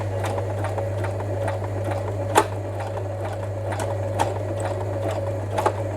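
A Butterfly JH5832A sewing machine runs with its pedal pressed while backstitching, a steady close mechanical whir with a rapid needle rhythm and a few sharper clicks scattered through.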